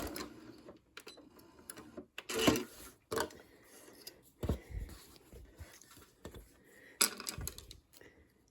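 Sewing machine running short bursts of back stitches on a canvas bag pocket, close and fairly quiet, with stop-start mechanical whirring and ticking separated by brief pauses.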